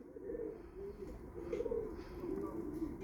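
Young pigeon chicks coo softly in a loft, low warbling calls repeating steadily and close by with no talking.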